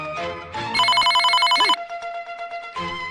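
A telephone rings in a cartoon scene with a bright, melodic electronic ringtone. It comes in loud repeated bursts with short gaps and a pulsing trill in the middle, and no one speaks.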